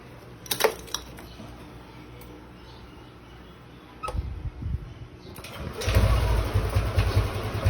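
A Yamaha Aerox or NMAX scooter engine starts up after a few clicks and settles into an uneven, wavering idle, with a check-engine fault.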